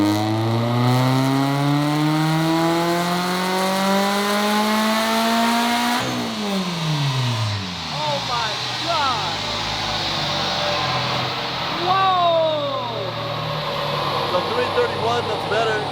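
A turbocharged Subaru BRZ runs on a dyno in fifth gear, its engine climbing steadily in pitch under load before the throttle cuts and it winds down, with people talking over the idle and revs afterward.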